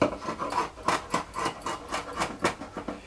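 A rasp works across yew wood on a bow made from a billet, a rhythmic series of about a dozen close, scratchy strokes at a steady pace.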